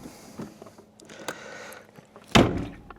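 A car door is slammed while a power window button is held down, giving a soft click and rustle, then one heavy thud with a short rattle near the end, close by.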